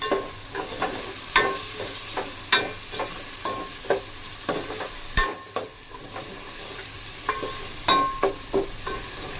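Cut tomatoes cook in oil with turmeric and salt in a pan, a soft steady sizzle under repeated scraping stirs of a spoon at an irregular pace, close by.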